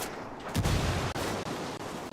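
A frag grenade blast and gunfire in the video game Ghost Recon Wildlands: a loud, dense burst of noise with a heavy low rumble that holds steady for about two seconds, broken by a few sharp dips.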